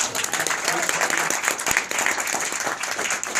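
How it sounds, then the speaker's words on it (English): A roomful of people giving steady, dense applause at a Christmas party, even and sustained for a few seconds with a faint voice underneath. "Big round of applause for you."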